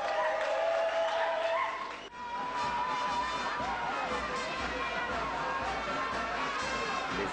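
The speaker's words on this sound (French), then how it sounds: "Les applaudissements nourris des militants et sympathisants" Sustained applause from party activists and supporters at a campaign rally, a dense steady clatter of many hands with crowd noise and voices mixed in throughout.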